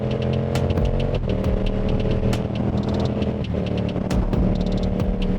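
A motorcycle engine drones steadily at highway speed, a loud, continuous hum with faint wind noise and no pauses.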